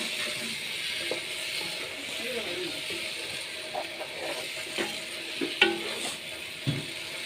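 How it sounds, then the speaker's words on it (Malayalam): Chicken pieces being stirred into sizzling biryani masala in a pan for a Palakkad-style chicken biryani, with a steady fry hiss and intermittent scraping, clinking stirs that grow sharper toward the end, all near and fairly quiet. "ചിക്കൻ ഇട്ടിട്ട് നമുക്കിത് നല്ലപോലെ ഒന്നും കൂടി ഇളക്കാം"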